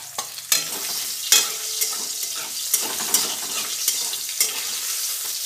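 More rohu fish pieces fry in oil in a pan with a constant crackling sizzle, broken by regular spatula taps and scrapes against the pan.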